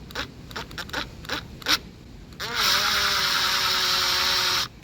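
A power driver backs out a square-bit bolt on a sliding door: a few close clicks and taps come first, then a steady whirring motor runs for about two seconds before stopping.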